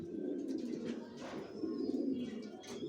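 Racer pigeons in a loft coo softly and continuously, a low rolling murmur with a few faint chirps above it and no talking.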